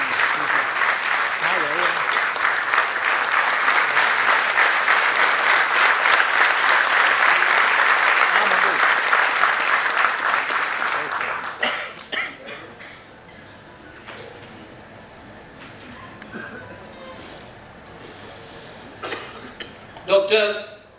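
An audience claps loudly to welcome Dr. Mohan Bhagwat at a Bharat Vikas Parishad gathering, dense sustained applause for about eleven seconds before it thins to scattered claps and quiet room noise.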